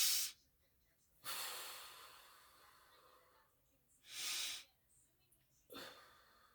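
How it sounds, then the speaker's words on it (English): Deep breathing with slow inhales and exhales, several close, airy breaths separated by quiet pauses. "Inhale, exhale."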